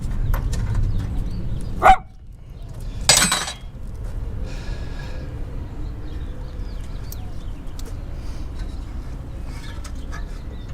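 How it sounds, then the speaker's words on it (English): In a garage where a 1970 Chevrolet Nova SS is being restored, a dog gives two short, sharp barks close by, followed by quiet workshop ambience with small scattered knocks. "Your dog, Ed, he's very bad. He's only saying hi, Tom."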